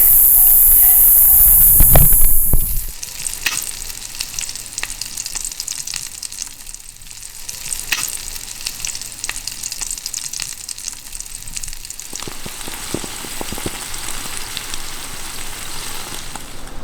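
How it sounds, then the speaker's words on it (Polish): Bacon, bell pepper and onion sizzle while frying for a pasta dinner during a thru-hike in Japan, a steady close crackle and hiss that runs throughout after a louder burst of noise at the very start. "Skwierczało na całą wieś."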